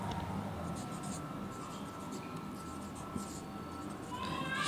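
Faint, continuous scratching of a pen writing out a math problem by hand on paper in a quiet room.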